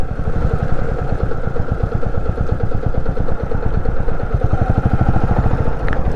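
Motorbike engine running steadily while riding along a rural road near a village temple, a continuous loud mid-pitched drone with rapid rhythmic firing pulses throughout, close up and with no talk.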